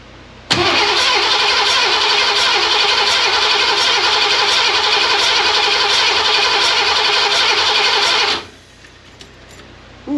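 A Ford 302 V8 cranks on the starter during a compression test with the tester in the number 5 cylinder: a loud, close, rhythmic whirring chug that runs steadily for about eight seconds before cutting off.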